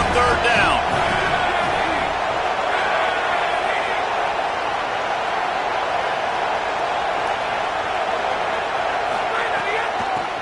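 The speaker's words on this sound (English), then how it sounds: "Decibels rising as the crowd gets behind this defense on third down." Dense stadium crowd roar swelling during a third-down defensive stand in a football video game, a steady broadband wash of voices held loud and constant throughout.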